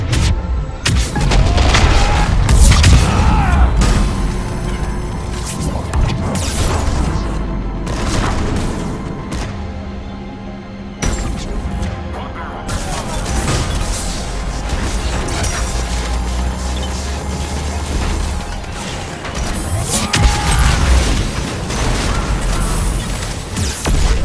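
Heavy cannons fire in the video game Mass Effect 3 during the Omega DLC, with repeated booming blasts and crashing mechanical impacts over a dense, loud combat soundscape.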